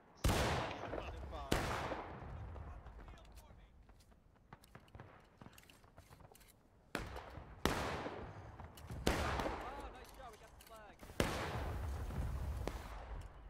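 Musket volleys crack out in a video game line battle, several loud, sharp shots spread over the stretch with echoing tails, while quieter shuffling and distant pops fill the gaps.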